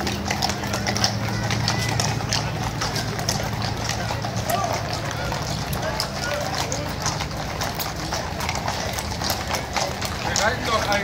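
Horses clip-clop along in a Cologne carnival procession, their hooves a steady irregular clatter amid crowd noise and a low background hum, while people talk nearby throughout.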